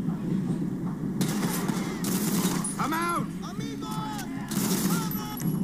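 Bursts of gunfire from the video game GTA V ring out in rapid volleys amid a city street fight, with metallic clatter and shattering between shots and steady background noise throughout.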